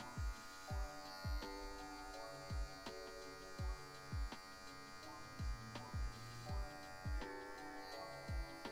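An electric hair clipper buzzes softly and steadily while fading hair in a barbershop mid fade, faint under regularly pulsing background music with sharp rhythmic beats.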